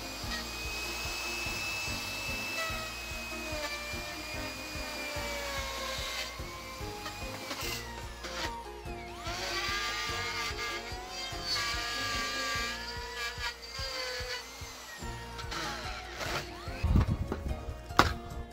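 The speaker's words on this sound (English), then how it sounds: "I also used a router." A wood router whines steadily while cutting hardwood, with shifting pitch, intermittent scraping and knocks, and a few louder clattering bumps near the end.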